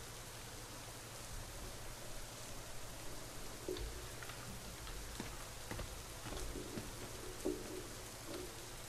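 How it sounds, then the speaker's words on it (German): Steady rain in the video game Assassin's Creed Rogue, a continuous soft hiss of drops on surfaces that holds evenly throughout with a few faint scattered taps and no voices. "Oh ja, es regnet gerade."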